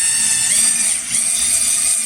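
A power drill running at fairly slow RPM during a helicoil thread repair kit demonstration, a loud, steady high-pitched whine with a constant motor tone, close and continuous for the whole stretch.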